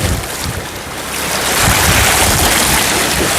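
Ocean waves surging and washing against the sea shore at high tide on a windy, rough day, a loud, continuous roar that swells and builds steadily with no talking.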